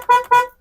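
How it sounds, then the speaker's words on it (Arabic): An MG ZS car horn sounds two quick, loud, close honks in a row, a bright steady tone, then stops into silence. "نسمع كده صوت الكلاكس"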